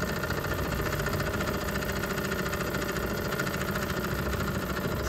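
A small steam engine running on hydrogen gas chugs steadily at an even, continuous pace, its throbbing mechanical drone holding the same moderate loudness throughout with no talking.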